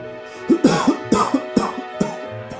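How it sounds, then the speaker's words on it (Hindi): A person coughs several times in a row, harsh, raspy bursts close by with short pauses between them. "कहीं ये खांसी मेरी जान ही न ले ले"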